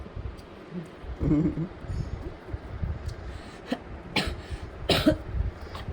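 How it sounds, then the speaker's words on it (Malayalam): A person coughs in a home setting, with a muffled cough burst near the start and sharper, louder coughs later, close to the listener over faint room noise. "ചുമയോടെ"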